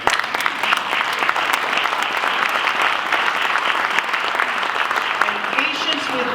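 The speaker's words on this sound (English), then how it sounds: "You need to applaud for that." An audience breaks into steady, loud applause at a community event on the heroin and opioid epidemic in Pennsylvania. The clapping stays dense and even throughout.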